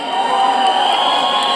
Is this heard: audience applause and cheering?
yes